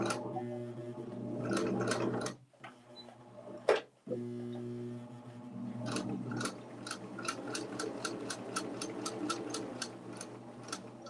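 Sewing machine stitching fabric for a bowl cozy, with a quick backstitch: close, steady rapid motor runs that pause briefly mid-way, then resume with a regular ticking needle rhythm.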